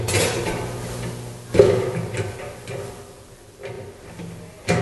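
A metal honey extractor basket, part of a 9-frame extractor, slides down and clunks into place, with a sharp knock at the start, a couple of softer bumps, and another knock at the end against a low steady hum.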